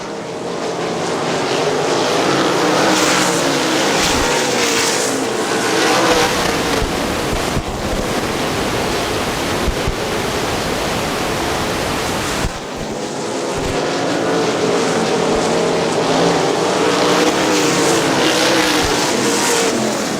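410 sprint cars race around the Butler dirt track, a continuous loud engine roar that swells and fades as the pack passes, with wind buffeting throughout.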